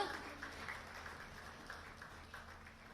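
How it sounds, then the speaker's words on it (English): Audience applause welcoming the Chief Minister of Uttarakhand at a Delhi roadshow for the Uttarakhand Global Investors Summit 2023, a steady diffuse patter of many hands mixed with crowd murmur, moderately loud and sustained throughout. "Ladies and gentlemen, keep the applause strolling,"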